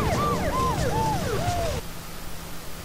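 Ambulance siren in the Driver 2 video game wailing in repeated falling sweeps, about four cycles, loud and close before cutting off abruptly, leaving a low hum and faint noise.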